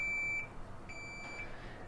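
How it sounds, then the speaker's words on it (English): A Samsung refrigerator in forced defrost mode gives two clear, sustained electronic beeps, the first longer and the second after a short pause, fairly faint over a low background hum. "we get FD, which means Forced Defrost. And it's going to beep for about 20 minutes."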